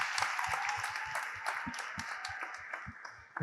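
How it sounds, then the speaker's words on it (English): An audience at a church athletes forum claps along for a minister, with scattered, uneven handclaps and a steady crowd wash at moderate loudness. "let's clap it up for him one more time"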